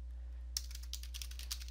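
Fast, crisp key presses on a computer keyboard while a command is typed for a network fix, a quick run of clicks that begins abruptly over a low steady hum with no one speaking.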